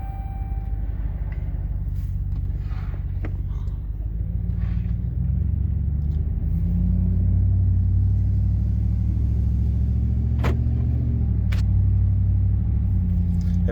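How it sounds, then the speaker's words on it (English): A car with a faulty automatic transmission running through its 1-2 shift and dropping into limp mode, a loud steady low engine rumble from inside the cabin that rises slightly partway through, with a couple of brief sharp clicks. "Let's see if I can catch this when it goes to 1-2 shift."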